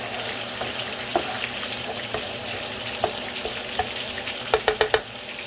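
Garlic frying in a pan for bourbon chicken gives a steady, close sizzle with scattered sharp pops and crackles, a quick cluster of louder spits near the end, and no voices.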